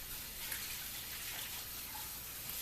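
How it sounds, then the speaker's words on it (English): Hands washed under a running kitchen tap, a continuous soft hiss of flowing water with small splashes, steady and fairly close. "let me wash my hands"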